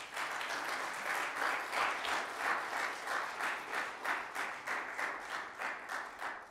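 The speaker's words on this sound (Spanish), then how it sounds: "Dele un aplauso a Él." A church congregation applauds at a sermon, the clapping dense and steady throughout, swelling in gentle waves with no voices over it.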